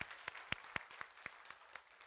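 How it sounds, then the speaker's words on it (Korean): Faint, evenly spaced claps at a church service as the congregation welcomes a newly arrived minister, about nine hand claps in a quick steady rhythm, quiet and somewhat distant. "환영의 박수 한번"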